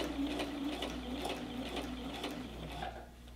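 A sewing machine stitching a hem runs in a steady, fast mechanical whir with rhythmic needle clatter, close and continuous, easing slightly toward the end.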